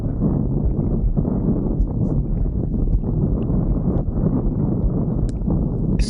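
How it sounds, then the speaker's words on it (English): Strong wind buffets the microphone in a constant low roar near Maai Mahiu, Kenya, gusting unevenly throughout with no talking. "And it's windy, by the way."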